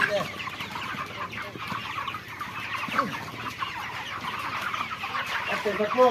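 Many chickens cluck continuously in a dense, busy chorus while being sold and loaded onto a truck, close and fairly loud, with occasional louder squawks.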